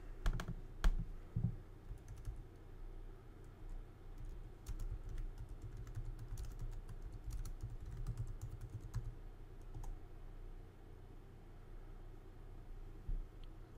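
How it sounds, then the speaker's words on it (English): Someone types an address into a map search field on a computer keyboard, producing quiet, irregular clusters of key clicks with brief pauses and faint background hiss. "You could type in your address."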